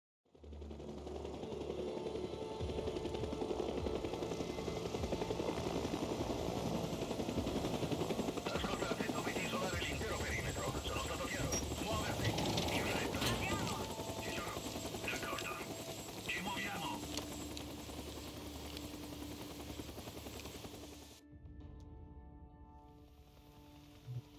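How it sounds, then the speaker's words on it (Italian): A helicopter in the video game Days Gone flies with a loud, steady rotor thump and engine whine that holds for about twenty seconds, then cuts off abruptly, leaving a quieter tail. "Il mio elicottero."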